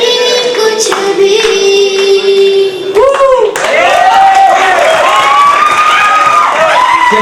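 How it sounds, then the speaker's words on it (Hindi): A young singer's sustained voice over music gives way to crowd cheering and clapping, with shouts and voices mixed into the loud, close applause. "कृपया तालियां दे"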